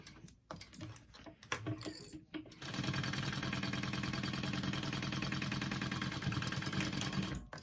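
A sewing machine bastes the lining of a hip bag: after a few soft handling clicks and rustles, a steady, fast mechanical whir and rattle runs continuously for about five seconds, close and moderately loud, with no voices.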